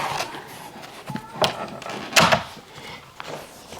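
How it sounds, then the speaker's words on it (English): A home door swung open for setting up a floor exercise, heard as a few wooden knocks and creaks with a louder clunk midway, fairly close in a quiet room with no talking. "Open back up the door"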